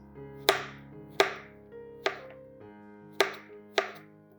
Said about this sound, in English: where it is more narrow, we're gonna cut them just in half circles